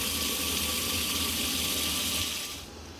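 Water runs steadily from a tap into a pot of dry beans, a continuous close splashing hiss that holds for nearly three seconds before easing off at the end.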